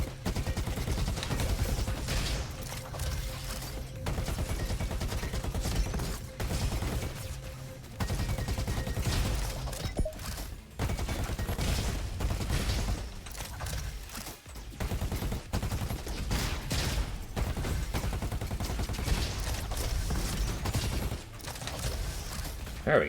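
Rifle gunfire in the video game RoboQuest, dense rapid bursts of shots running almost continuously and loud, with brief pauses and mechanical clatter mixed in.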